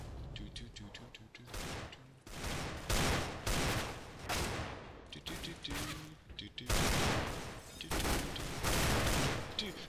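Rapid bursts of automatic gunfire in Counter-Strike: Global Offensive, repeated rattling volleys with brief pauses, loud and up close, mixed with game effects and occasional player talk underneath.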